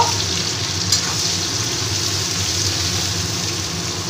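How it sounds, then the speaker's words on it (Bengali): Chopped onions, three of them, fry in a pan for a chicken and potato curry, giving a steady, even sizzle that holds at one level throughout with no talk over it. "পেঁয়াজ কুচিটা দিয়ে দিলাম। পেঁয়াজটা একটু ভেজে নেব।"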